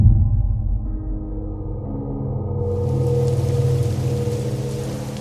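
Steady rain pours on a rural path beside rice fields, a dense continuous hiss that grows fuller and brighter midway, with a low rumble running underneath throughout.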